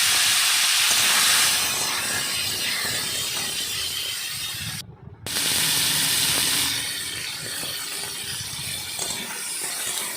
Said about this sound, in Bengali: এখন কাঁকড়াটা ভেজে নেব।